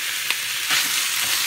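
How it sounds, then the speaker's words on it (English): Organic olive oil heating in a pan on the stove, a steady loud sizzle and crackle from start to finish, heard alone. "Okay, now we got it heating up here."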